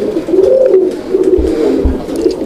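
Pigeons cooing at close range, with male birds calling to a female in a loft of Raj-Golla pigeons; low, continuous rolling coos overlap with faint soft thumps underneath.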